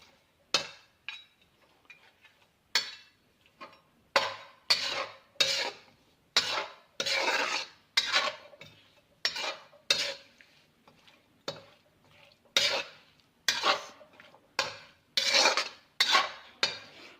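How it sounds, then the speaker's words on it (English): Oil and marinade ingredients for a chickpea biryani are mixed by hand in a pot. Close, rhythmic rasping strokes repeat about once a second, with short quiet gaps between them and no voices. "I'm going to mix these things together."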